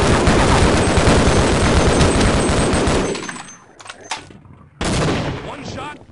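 Gunfire in the video game Half-Life: a dense, loud burst of rapid shots, then a short lull with a couple of isolated cracks, then another heavy volley up close.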